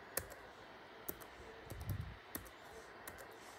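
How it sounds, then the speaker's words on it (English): Keys on a computer keyboard tapped one at a time to enter a password during a macOS Monterey install on an unsupported Mac, sparse close clicks in an irregular rhythm, a soft cluster in the middle, and no talk. "now just type in my password"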